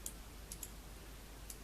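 Faint, sparse mouse clicks, about five scattered sharp ticks over a low steady hum, as a cursor drags across animation keyframes in editing software.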